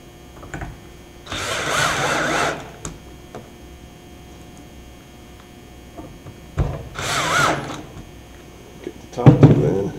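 Short bursts of a power drill driving screws into pre-drilled holes while hanging wood panels: two whirring runs of about a second each, then a brief final burst, separated by quiet handling clicks.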